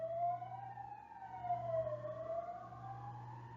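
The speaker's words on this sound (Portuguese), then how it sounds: "desculpa a sirene aí da rua" An emergency siren passes in the street outside, wailing up and down at moderate distance over a low steady hum, with no voices.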